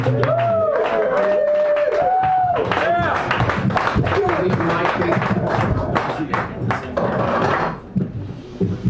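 Audience applause at an open mic night in a San Francisco café: scattered clapping and cheers from a small room crowd over talking voices, with a few knocks and taps, thinning out toward the end.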